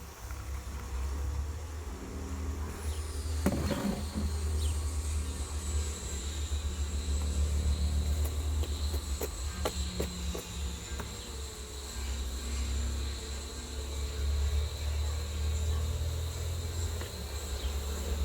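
Steady, dense buzzing of many bees fills the air during a hive inspection, with a low hum beneath and occasional faint clicks and knocks nearby.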